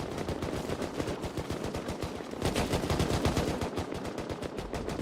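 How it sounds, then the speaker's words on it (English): Naval cannons in the video game Rust fire during a large boat battle, a rapid, continuous barrage of overlapping booming shots that stays loud and close the whole time. "They're able to cover themselves from the sides while shooting cannonballs directly at that."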